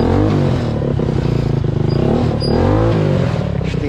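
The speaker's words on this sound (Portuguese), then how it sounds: "Vamos ligar ele. Vamos ver se funciona." A kart cross engine with a poorly tuned carburetor starts and runs loudly and steadily close by, its rough idle throbbing throughout with a slight rise in revs near the end.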